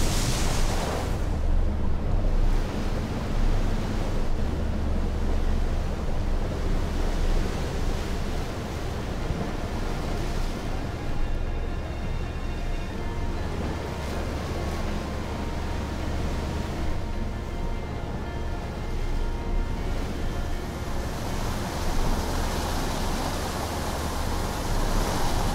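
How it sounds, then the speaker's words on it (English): Rough, choppy water surges in the video game Outer Wilds, a steady broadband wash of waves with low rumble and swirling texture that holds constant throughout, without any talk over it. "That's some rocky water."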